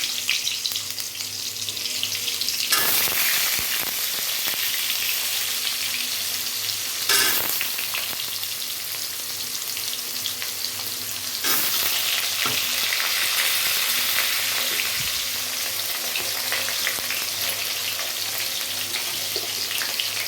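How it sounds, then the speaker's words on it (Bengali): Cut potatoes fry in hot oil, a loud continuous close-up sizzle and crackle that holds steady throughout, with a few brief bursts and shifts where the pieces are stirred or moved in the pan. "তেল গরম হয়ে গেছে, এবার আমি কেটে রাখা আলুগুলো দিয়ে দিচ্ছি।"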